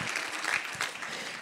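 Brief burst of congregation clapping in a Spanish-language church service, a dense patter held steady for over a second with a couple of louder spikes, fairly quiet overall.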